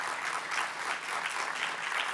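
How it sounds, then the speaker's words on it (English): Steady applause from the audience at a summit welcome address, a dense wash of many hands clapping at once, moderately distant and fairly soft, holding an even level for a couple of seconds with no voices over it. "Can you give her a clap, a round of applause?"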